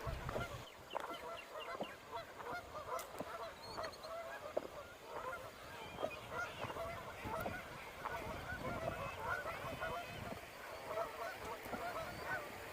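Geese honk repeatedly near a creek, a flock calling in overlapping bursts at moderate distance over quiet outdoor ambience.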